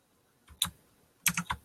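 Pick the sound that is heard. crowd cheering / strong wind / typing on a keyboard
typing on a keyboard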